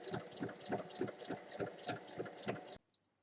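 A sewing machine runs steadily, stitching close to the edge of a fabric strap for a triangle pouch, with a snap hook slid along as it goes. The motor hums with rhythmic needle pulses, then stops abruptly near the end.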